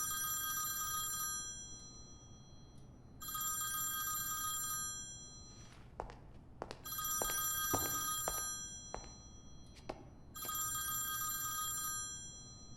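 A telephone bell rings in bursts of repeated electronic trilling, with pauses between rings and a few dull knocks and thumps in the quiet gaps, in a scene from a Tamil film.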